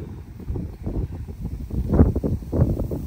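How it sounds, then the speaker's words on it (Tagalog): Strong wind buffets the microphone in gusty, rumbling bursts near a golf course in Calgary, steady throughout with louder surges near the end. "Oh, lakas ng hangin."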